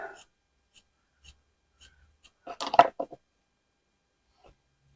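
Scissors cut fabric for slow-stitching collage, with a few soft isolated ticks and then a short cluster of close crunchy snips, faint against a quiet room.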